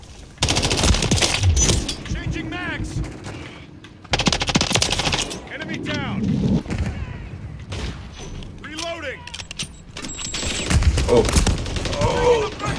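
Rapid bursts of automatic gunfire in the shooter game Modern Warfare 3, loud, dense volleys in several stretches, with a player's voice talking between and under the shots.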